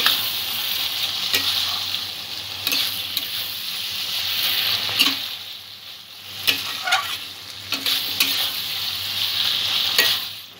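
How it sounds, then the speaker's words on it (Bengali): Chicken ghugni sizzles steadily in a pan as chicken pieces fry with spices, with a spatula scraping and stirring at irregular intervals throughout. "চিকেনটা মিনিট 10 সমস্ত উপকরণের সঙ্গে আমি কষিয়ে নিয়েছি"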